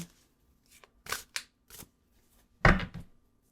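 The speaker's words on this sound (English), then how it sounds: "I shuffled." Tarot cards being shuffled by hand, several short riffling bursts separated by pauses, the last burst the loudest, close and alone without talk.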